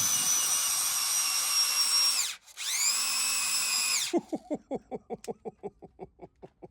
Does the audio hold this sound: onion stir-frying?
no